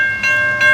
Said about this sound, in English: there is a train approaching in both directions.